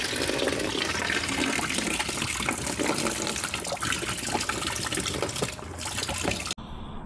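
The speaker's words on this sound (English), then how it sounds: "that will drain the coolant out for us" Coolant gushes steadily out of a Land Rover Discovery TDV6 engine after a hose is pulled off, a loud, constant watery rush that runs for several seconds before cutting off abruptly near the end.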